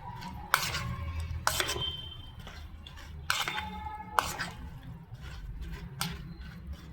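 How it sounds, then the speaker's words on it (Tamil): Green chillies stirred into curd in a bowl by hand or spoon, giving soft wet squelches and a few sharp clinks against the bowl at irregular intervals, close and fairly quiet with no talk. "இப்போ நம்ம இந்த தயிரோட நல்லா கலந்து விட்டுடலாம்"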